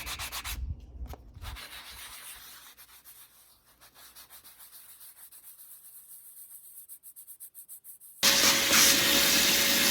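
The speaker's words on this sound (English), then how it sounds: "now I'm going to use my trusty sanding block to scuff up the surfaces of my backing blocks" Rhythmic back-and-forth strokes of a sanding block scuffing HDPE plastic blocks scrape steadily, close and moderately loud, before a louder hiss starts near the end.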